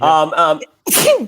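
A single sharp sneeze bursts out right after a brief spoken word from a nearby person, loud and close, during a conversation.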